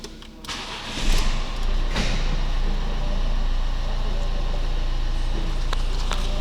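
A Renault Duster with about 257,000 km on it cranks briefly and fires up, then settles into a steady, loud idle that continues to the end.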